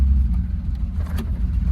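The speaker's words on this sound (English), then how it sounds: "It just idles now." An idling 1964 Plymouth Valiant convertible, long abandoned and recently revived, with a burning air cleaner gasket on the exhaust: a loud, close, steady low rumble with slight uneven pulsing.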